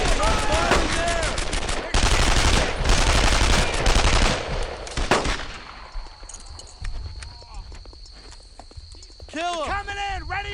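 Bursts of rapid machine-gun fire and rifle shots in the World War II game Brothers in Arms: Earned in Blood, loud and dense early, thinning into sporadic shots under shouted soldier voices.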